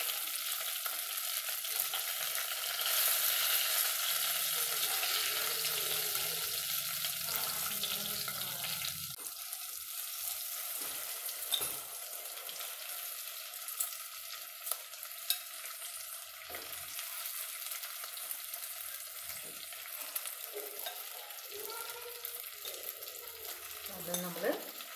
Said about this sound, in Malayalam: ഇനി അതും നേരത്തെ നമ്മൾ ഫ്രൈ ചെയ്തെടുത്ത പോലെ തന്നെ നമുക്ക് ഫ്രൈ ചെയ്തെടുക്കാം.